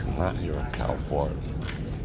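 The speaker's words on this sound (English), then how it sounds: "There's crickets in here." Crickets chirping indoors in a busy Las Vegas venue, a few short chirp bursts rising over constant crowd murmur and nearby talk.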